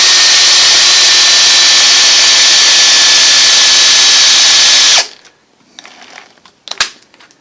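A loud, steady power drill whirs for about five seconds while twisting wire straight, then cuts off abruptly, leaving quiet rustling and a couple of sharp clicks.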